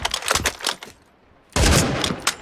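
AWP sniper rifle no-scope shots in the Turkish shooter Sabotaj, with loud sharp bursts and a short quiet gap before another forceful blast with a ringing tail.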